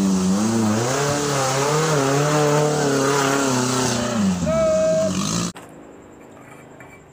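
Toy off-road car with a revving engine sound, loud and close, a sustained wavering motor tone that rises in pitch before cutting off abruptly, leaving quiet background.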